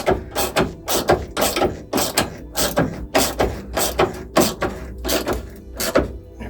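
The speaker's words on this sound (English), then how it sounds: "we can get the headlight put in once I've bolted these up" A hand ratchet clicks rapidly in repeated bursts while bolting a headlight into a Ford Puma, about a dozen rhythmic close ratcheting strokes with short pauses between.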